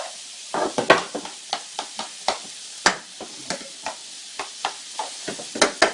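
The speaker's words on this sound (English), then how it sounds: "While this is happening, tossing the pan in here." Food in a pan is tossed and stirred for a meat curry, with a rapid, regular run of sharp scraping and rattling strokes over a continuous sizzle, close and fairly loud, with no talking.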